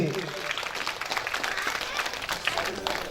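Steady audience applause at a Shrimad Bhagavad katha gathering in Sitapur Panasada, a dense, even wash of many hands running throughout the whole stretch, with a voice talking over it.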